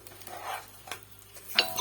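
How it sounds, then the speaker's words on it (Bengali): Rice and chicken being stirred and fried together for biryani, a spoon scraping and shuffling through the pot in a few strokes over a soft sizzle, with a sharp metallic clink near the end. "আমার চালটা প্রায় ভাজা হয়ে আসতেছে"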